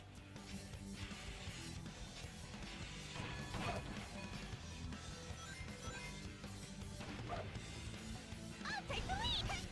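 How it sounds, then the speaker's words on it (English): Barrels smash one after another in the Sonic Heroes video game, loud repeated crashing hits over steady game music and sound effects, with a voice talking over parts of it. "Gotta break these barrels."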